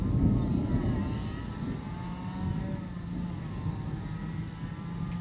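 A motorcycle passes during a thunderstorm, its engine drone rising and fading at moderate distance under steady rain and wind noise.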